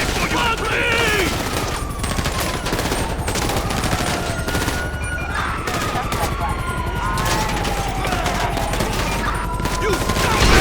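Dense, continuous automatic gunfire in a video game, rapid rattling shots close and loud throughout with tones sweeping underneath, and voices talking over the shooting.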